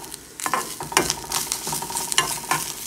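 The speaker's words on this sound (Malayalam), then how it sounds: "ഇത് നന്നായിട്ട് ബ്രൗൺ ആയിട്ട് നമുക്ക് വറുത്തെടുക്കണം നല്ലെണ്ണയിൽ തന്നെ വറുത്തെടുക്കണം" Grated coconut fries to dark brown in sesame oil, a close crackling sizzle punctuated by repeated scraping strokes of stirring.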